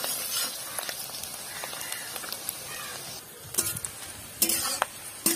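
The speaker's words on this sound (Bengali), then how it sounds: "পেঁয়াজটাকে আমি বাদামি রং হওয়া অবধি ভেজে নেব খুব ভালো করে।" Onions fry in oil until brown with a crackling sizzle that builds as stirring scrapes come and go, with louder bursts of spatting and scraping in the second half.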